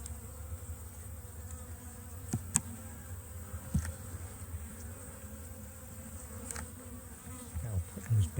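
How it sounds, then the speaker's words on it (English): Honeybees on a lifted super frame from a backyard hive hum in a steady, close swarm drone, with a few sharper buzzes as single bees fly past the microphone. "I'll put those bees back together again because I don't want to disturb them too much"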